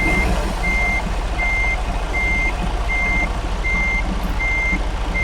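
Steady reversing beeps from a truck in American Truck Simulator, evenly spaced chirps repeating about every 0.7 seconds over a constant low diesel engine drone, with no voices.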